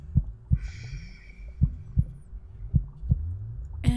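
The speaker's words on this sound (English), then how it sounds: "Your heartbeat has already slowed significantly." A slow heartbeat sound effect thumps in regular paired beats, deep and close, about seven pulses over a faint steady hum.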